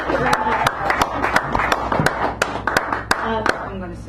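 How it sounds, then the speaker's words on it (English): Applause at a café poetry reading for a returning poet, a small audience clapping in distinct, uneven hand claps close by while a voice keeps talking over them. "Give her a round of applause"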